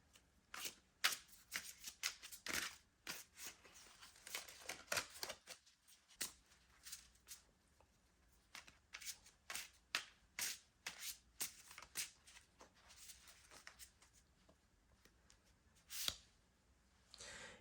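Tarot cards are shuffled and drawn in a quiet room, giving soft, crisp riffling bursts and flicks that come in irregular clusters. A brief pause breaks the sequence midway, and a few sharper snaps of cards land near the end.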